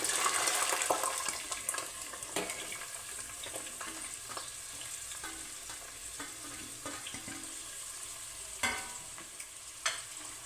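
Chopped onions fry with green chilies in a pan for chicken curry, giving a continuous bright sizzle with occasional scraping stirs and taps of the spoon, close and fairly loud with no talking.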